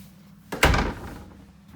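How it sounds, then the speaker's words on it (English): A bedroom door inside a new 2021 Jayco Seismic 4113 RV is pushed shut, making a single soft thunk nearby that fades quickly into a quiet room. "And then we shut the bedroom door here."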